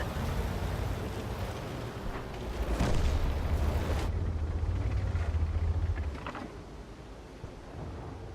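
Tank cannon shots in World of Tanks, heard as heavy booming blasts with a deep rumbling roar that lingers for a few seconds before fading, no speech over it.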